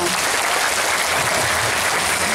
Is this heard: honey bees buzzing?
no